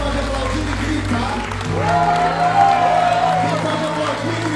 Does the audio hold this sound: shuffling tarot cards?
no